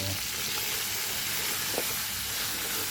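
Pork frying in hot oil gives a steady, loud sizzle and hiss that runs unbroken throughout, with no voices over it.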